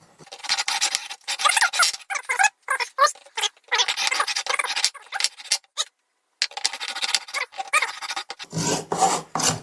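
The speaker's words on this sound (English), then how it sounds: "it is aluminum, it's very soft. Let's just keep on sawing." A hand saw cuts through soft aluminum near a fuel line on a late-1990s Volkswagen Audi group car. Close, rhythmic rasping strokes come in bursts with short pauses between them.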